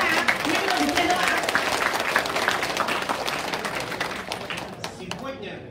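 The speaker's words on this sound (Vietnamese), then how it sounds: "Một tràng pháo tay to lớn cho các bạn." Audience applause at an international SkyWay conference in Hanoi, a sustained wash of many hands clapping with crowd voices underneath, tapering off near the end.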